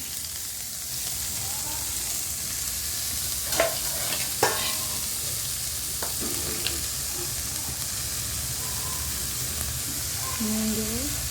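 Burmese greens hitting hot oil with fried onion and dried chilli in a wok, a steady sizzle and hiss with a few sharp scraping stirs, while a voice speaks faintly in the background.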